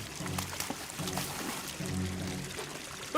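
Water pouring from a tap in a Fireman Sam cartoon about an underground flood: a short run of gurgling, splashing pours in quick bursts, with faint voice-like sounds underneath.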